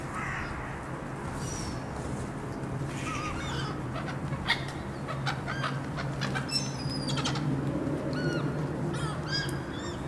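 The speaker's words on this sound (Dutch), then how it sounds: "Dit zijn allemaal meeuwen." A flock of gulls calls together, a busy chorus of overlapping squawks and sharp cries of varying distance over a steady ambient rumble, with no talk.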